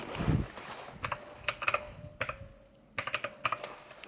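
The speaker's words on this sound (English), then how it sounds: "Let's type it in" Quick bursts of keystrokes on a computer keyboard, irregular clusters of clicks with short pauses between them, close and moderately loud, with no talking over them.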